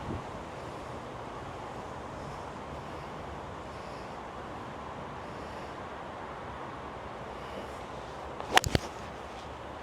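Strong wind buffets across an open golf course, a steady roaring rush with a few sharp gusty thumps near the end, no voices.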